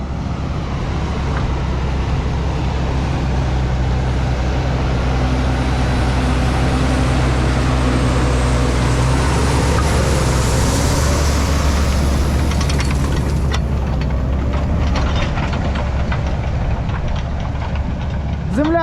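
A tractor engine drones loudly and steadily up close in a frozen field during deep ripping in December, a constant low rumble with mechanical knocking and rattles throughout.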